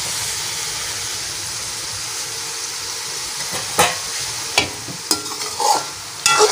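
Okra stirred into a spiced masala gravy in a pan, a steady soft frying sizzle with a few sharp spoon scrapes and clinks toward the end, no talking.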